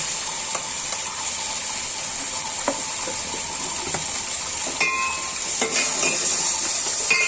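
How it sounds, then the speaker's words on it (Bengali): Cumin seeds frying in oil as a tempering for a simple cauliflower and potato curry, giving a steady bright sizzle that runs throughout with a few soft stirring clinks. "জিরার ফোড়ন দিয়ে রান্না করছি"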